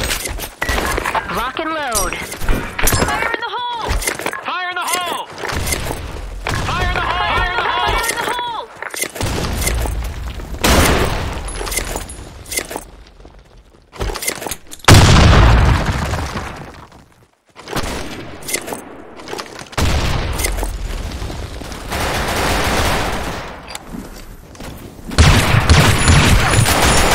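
Grenade explosions and bursts of gunfire in the video game Sand Storm, loud and close, with booms and rapid shots overlapping; voices shout and talk throughout.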